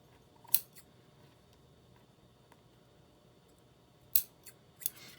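Craft scissors snip through material while trimming pieces of a wreath to an even length, giving two or three short, crisp cuts spaced apart against a quiet room.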